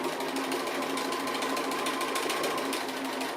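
A sewing machine runs steadily while outlining small appliqué leaves, a continuous close buzzing whir with no pauses and no talking.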